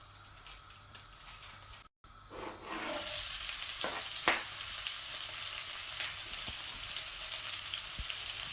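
Onions tipped into a hot pan for a coconut-milk shrimp dish start to sizzle after a brief pause, building into a steady, fairly close frying hiss with a few louder crackles and stirring scrapes, with no talking.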